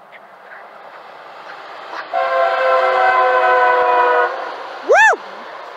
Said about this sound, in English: Quad horns on a Colorado and he had a train horn!